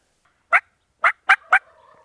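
A mature Gould's wild turkey tom gobbles outdoors: four sharp, loud calls, the last three in quick succession, trailing into a brief rattle.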